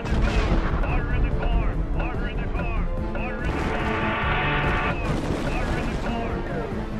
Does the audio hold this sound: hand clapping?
no